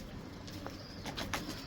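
Pigeons coo softly in a breeder loft, with low, faint calls and a few brief wing or shuffling sounds over a steady quiet background.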